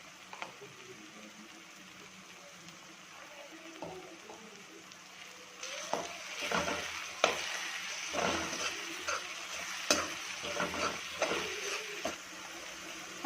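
Coriander and green chili paste frying in a pan for a prawn masala, a faint sizzle that grows louder midway as scattered clinks and stirring scrapes join in.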